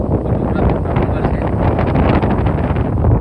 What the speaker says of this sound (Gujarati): અને પવન પણ બહુ છે